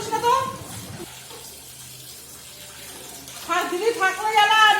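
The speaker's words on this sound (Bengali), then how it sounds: "রান্নাঘরে ঢুকে যে মাছ টাছ ধোয়াধুয়ি করছি" Water runs steadily from a kitchen tap while fish are washed, a soft continuous splash between stretches of talking at the start and end.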